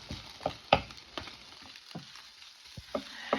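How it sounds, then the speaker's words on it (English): Turkey sausage for potato tacos cooks in a pan with a faint, quiet sizzle, broken by several sharp spoon scrapes and taps against the pan. "I want to make sure this turkey sausage is cooked really good."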